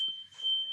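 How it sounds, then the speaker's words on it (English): A smoke detector sounds a single piercing high beep that holds steady through the moment, clear and alone in an otherwise quiet room. "I've got a smoke detector going off"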